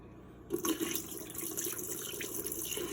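Water is poured over tomato seeds to rinse them, a sudden splashing stream starting after a brief quiet moment and then running on steadily close by.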